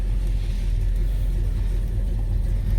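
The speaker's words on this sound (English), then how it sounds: "Just let it idle for a little bit, see how it reacts." A car engine idling, a close, steady low rumble that stays even throughout with no revving and no voices.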